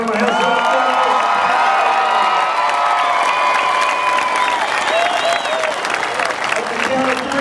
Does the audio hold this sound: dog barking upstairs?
no